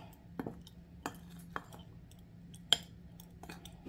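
Gluten-free orange gingerbread batter with ground cinnamon is stirred in a bowl, giving sparse, quiet clinks and taps of utensil against the bowl at irregular intervals over a low hum.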